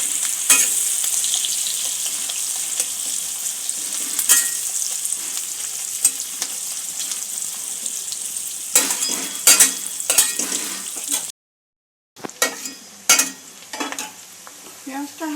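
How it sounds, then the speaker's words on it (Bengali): Onions fry gently in a pan on a medium-low flame, a steady close sizzle broken by repeated spoon scrapes and clatter as they are stirred, with a brief silent gap near the end. "পেঁয়াজটা হালকা করে ভেজে নেব।"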